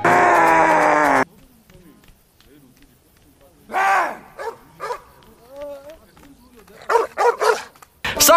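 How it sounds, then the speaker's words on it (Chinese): A dog barks and yips in short, sharp bursts while chasing someone in a zombie comedy, with groaning vocal sounds and a loud burst of other noise at the start. "丧尸被狗子撵得生无可恋"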